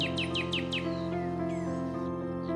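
Parrots in a children's Panchatantra fable give a quick run of five sharp, descending chirps, then a few fainter calls, all over a steady musical background.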